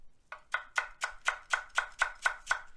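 A knife chops salad vegetables julienne style on a cutting board, ten crisp, evenly spaced cuts in a steady rhythm, close and clear with no talking.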